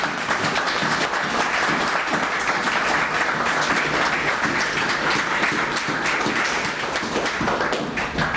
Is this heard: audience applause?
yes